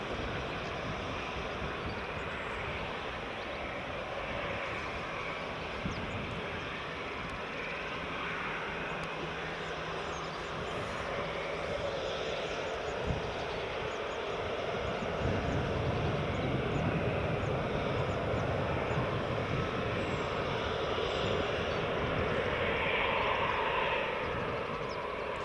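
A Smart BizJet business jet arriving at Edinburgh Airport produces a steady, broad roar of engine noise mixed with wind. It holds for the whole stretch and grows slightly louder partway through, with no talking.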